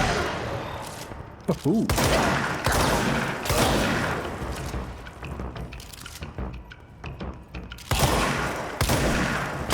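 Bursts of enemy gunfire in the action game Control, several volleys and impacts spread across the moment, mixed with a man's spoken reactions and game sounds.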